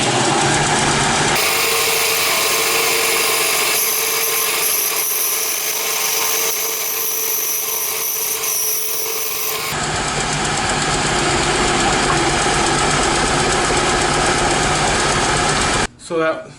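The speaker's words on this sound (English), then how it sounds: "let's resaw that" A bandsaw resaws a wooden block with a loud, continuous whirring hum that holds for about fifteen seconds before cutting off abruptly at the end.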